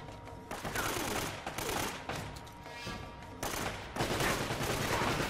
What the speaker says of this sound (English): the turret almost killed me